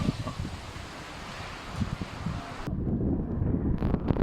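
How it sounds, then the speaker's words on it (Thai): Strong wind ahead of a storm buffets the microphone with a loud, continuous gusting roar, with rustling leaves and rumbling bursts growing heavier toward the end. "ลมมาแล้วลมมาแล้ว"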